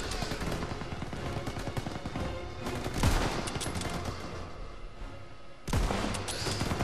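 A tank's main gun fires at an MG-42 nest in Call of Duty WWII, amid a steady chatter of machine-gun and rifle fire, with two heavy booming blasts standing out loud and close.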